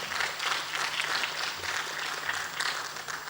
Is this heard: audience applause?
yes